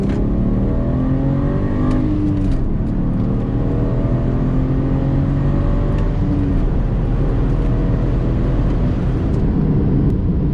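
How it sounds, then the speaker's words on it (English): A tuned 2014 BMW 335i xDrive M-Sport with a JB4 tune, in Sport Plus mode, doing a second-gear roll-on pull. Its engine drones loud and close from inside the car, the tone climbing steadily for the whole stretch. "We'll do a little second gear roll on pull."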